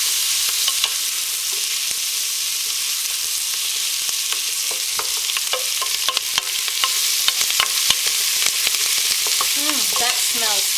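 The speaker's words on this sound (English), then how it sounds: "It's important to saute the onions first, because the garlic has a tendency to burn" Onions sautéing in a pan for Greek-style green beans, a continuous bright sizzle crackling with scattered pops and occasional scrapes of stirring, close and steady with no talk.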